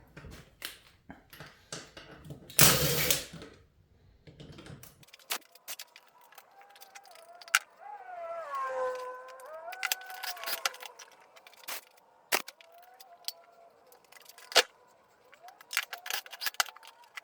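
Small metallic clicks and taps as valve spring keepers are worked into place on a Corvette LS6 cylinder head, scattered sharp ticks with one brief scraping burst and a faint squeak in a quiet workshop.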